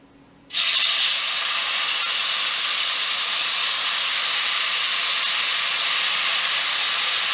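Meat dropped into hot oil for gluten-free lo mein starts a sudden, loud, steady sizzle that hisses on without a break for several seconds.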